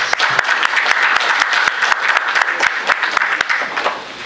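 Morning attendees at an academic session on geriatrics and palliative care applaud, a full, fairly loud burst of clapping from the audience that tapers off near the end.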